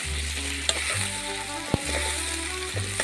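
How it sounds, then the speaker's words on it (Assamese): Potato and bitter gourd pieces sizzle in oil in a kadai over a wood fire, a continuous close hiss broken by a few sharp clicks of stirring. No one speaks. "ইয়াত এতিয়া জিকা আলু ভাতকেৰেলা তেলত দি লৈছোঁ দেই"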